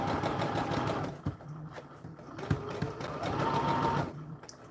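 Sewing machine stitching steadily around a reverse corner of a seam, a continuous buzzing drone that pauses briefly and slows in places, with faint clicks between runs.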